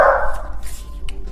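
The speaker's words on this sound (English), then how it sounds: "please ignore my dog." A short, loud dog bark opens the clip, then fades into quieter room noise with a faint high ping near the end.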